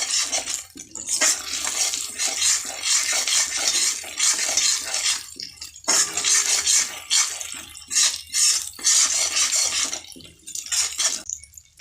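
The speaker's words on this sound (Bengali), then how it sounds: "সুন্দর করে কষে নিতে হবে" Spiced young jackfruit being stir-fried in a pan: a loud, close, continuous sizzle with repeated spoon scraping and clattering against the metal, pausing briefly a few times.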